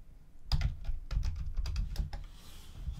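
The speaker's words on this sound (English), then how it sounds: "instead of using the keyboard on the phone, I would just use the keyboard that I plugged in" Fingers type on a physical computer keyboard plugged into a Samsung Galaxy Note 9 running DeX, a quick run of close, crisp keystroke clicks in uneven bursts with no voices.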